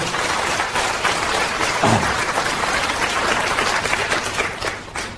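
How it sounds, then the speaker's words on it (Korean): A room full of listeners at a health lecture breaks into applause, a steady crowd of hands clapping for several seconds, fairly loud and without speech over it. "그 얘기를 했는데 왜 박수를 치시죠?"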